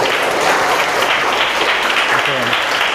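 Steady audience applause following a classroom presentation, loud and continuous throughout, with a faint voice briefly audible underneath.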